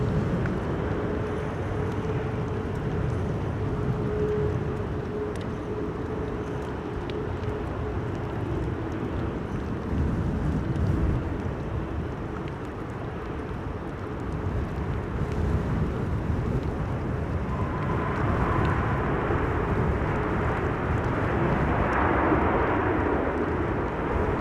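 An Air Europa Boeing 737 MAX 8 arriving from Madrid at Amsterdam Schiphol during Storm Amy, its engines a steady broadband roar mixed with gusting wind noise, holding fairly constant throughout.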